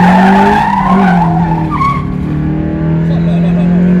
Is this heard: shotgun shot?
no